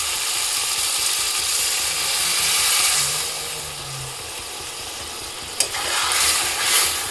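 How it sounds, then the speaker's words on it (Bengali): Water added to a fried spice paste with melted tomatoes for a Morola fish curry sets off loud, continuous sizzling and hissing in the pan, with a sharp clank just past the middle. "এবার এর মধ্যে আমি সামান্য পরিমাণে জল দিয়ে দেবো।"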